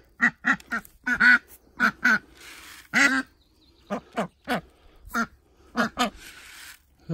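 Ducks quack close by in a rapid, irregular series of loud, nasal calls with short gaps between them, alone without other sounds.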